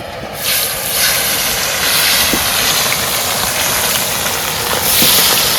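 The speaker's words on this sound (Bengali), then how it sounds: "বাকি মাছগুলো আবার ভেজে নেব" Fish frying in hot oil, a loud, steady hiss of sizzling that fills the whole stretch and swells slightly near the end.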